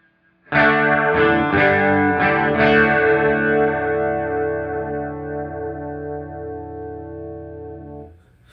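An electric guitar strums several quick chords, then one rings out long and shimmering through a Strymon Deco V2 modulation pedal, swirling, before cutting off.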